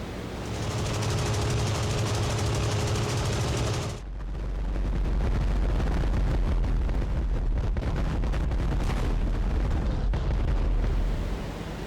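Aircraft cannon and machine-gun strafing in the flight combat game IL-2 Great Battles, Tempest Mk V against Me 262s: a loud, dense roar of engine noise, then rapid rattling bursts of gunfire with heavy low rumble.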